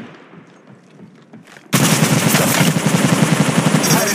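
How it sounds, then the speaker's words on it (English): Sustained, loud gunfire in the mobile battle royale game Apex Legends Mobile, with dense rapid bursts of automatic fire that start abruptly after a quieter stretch and keep going to the end. "I'm taking shots. Getting shot at. Firing."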